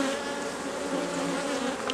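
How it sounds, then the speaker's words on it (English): Honey bees buzz in a dense, steady drone from an open hive, close and constant, with no voices. "now we have all the bees. Look at all these bees down here."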